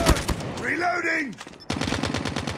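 Call of Duty gunfire: dense rapid shots at the start and end, a short voice-like tonal sound between them, close and loud.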